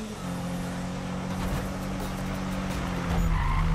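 Race car in Need for Speed 2015 accelerating hard with tires skidding and squealing, a steady close engine drone under continuous screeching rubber, growing louder toward the end.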